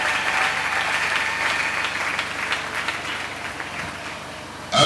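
A church congregation applauds steadily and loudly during a French-language worship service, a dense sustained wash of clapping that holds for several seconds before a brief louder burst at the end.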